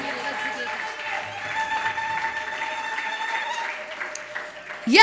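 A church congregation ululates in praise, sustained high trilling voices layered over a steady crowd wash, with clapping mixed in and a louder swell at the very end.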